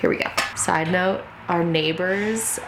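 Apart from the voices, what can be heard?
No distinct noise like a dog, phone or traffic.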